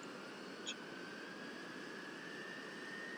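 A jet airliner engine spooling up in Roblox Project Flight, a steady, broad rushing roar with a thin rising whine running through it, constant and close throughout.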